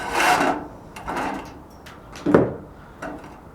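Sawing excess material off the side of a wooden frame for a DIY triple-pane window, heard as several short rasping strokes, with one louder stroke near the end.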